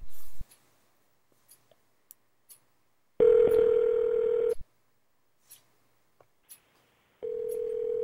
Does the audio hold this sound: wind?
no